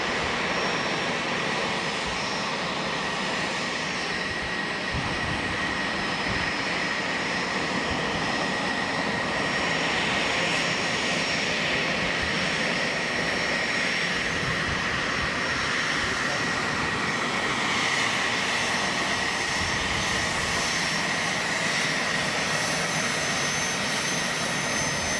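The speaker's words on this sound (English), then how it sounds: "He will taxi all the way across the active, then turn left, and then taxi down past the Museum of Flight." A Boeing 777X jet taxis across Boeing Field airport, its engines making a steady, loud broadband roar with a high whine that holds for the whole stretch, with no pauses or talk.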